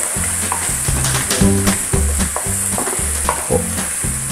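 Potatoes frying in a pan for aloo zeera, a bright continuous sizzle with a rhythmic scraping of the spoon as they are stirred, close and alone.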